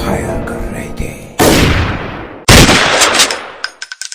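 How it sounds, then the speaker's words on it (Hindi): Loud gunfire effects for an animated story about chasing aliens into a jungle: a sustained burst of shots, then a second heavy blast trailing into a string of sharp sporadic reports, close and alone. "और लगातार फायर कर रहे थे।"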